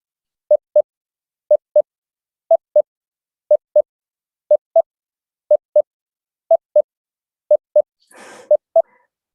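A regular, isochronous sequence of short electronic tones, paired beeps repeating at a steady one-second pace, clean and alone with a brief noisy rustle near the end; some tones in the test sequence are slightly higher deviants.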